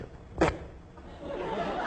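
A single short, sharp click-like burst made by a voice, imitating a dot sound, amid quiet room noise and faint murmuring afterward.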